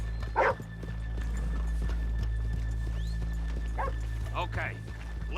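Horses in the Red Dead Redemption 2 western game, hooves clopping and a whinny over a low outdoor rumble, with dogs barking faintly and people talking now and then.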